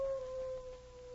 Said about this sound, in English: The howl was heard again, closer this time.